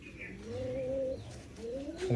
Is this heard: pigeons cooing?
yes